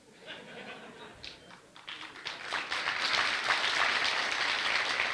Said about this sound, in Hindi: ताली बजा रहे हैं इस बात पे, बढ़िया